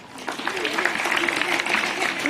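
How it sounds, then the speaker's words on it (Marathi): Audience clapping at a school cultural day, a steady burst of applause filling the room for about two seconds, with voices faintly mixed in. "त्याच्या टाळ्या वाजवा"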